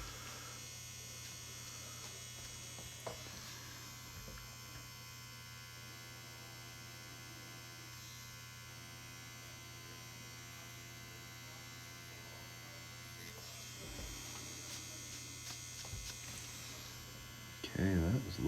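Tattoo machine buzzing steadily on Reelskin practice skin, angled low while shading in little circles; a constant close electric hum runs almost unbroken for the full length, with a brief rustle near the end.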